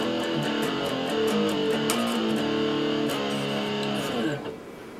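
An electric guitar plays the heavily distorted interlude, a dense wall of sustained chords with steady rhythmic pulses that cuts off near the end, loud and unaccompanied by talk.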